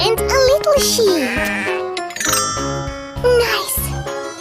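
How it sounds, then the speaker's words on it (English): A cartoon sheep bleats in several wavering, nasal calls, close and clear, over an upbeat children's song with jingly chimes and a steady bass pulse. "A big sheep and a little sheep."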